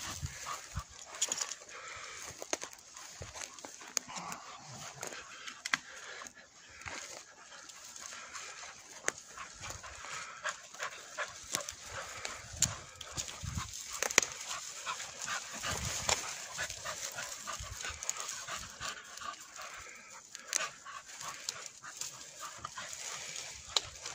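Cocker Spaniels push through woodland cover while hunting, with rustling undergrowth, panting and scattered close crackles over a steady outdoor background.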